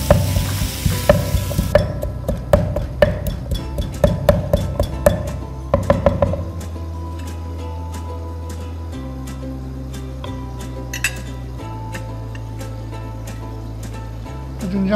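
Garlic sizzles and crackles in a hot pan with repeated clinks of stirring for about six seconds, then the frying drops away to a low, steady hum.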